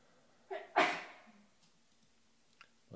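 A single loud, close sneeze in a quiet room, a short intake followed by a sharp explosive burst that trails off, with a faint click afterward and a brief sound at the end.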